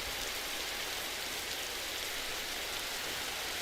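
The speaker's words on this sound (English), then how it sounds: "You can see the rain is falling down with a vengeance at the moment." Heavy rain pouring down during a wet racing video game session, a dense steady hiss of drops on surfaces filling the whole clip without pause, with no voices.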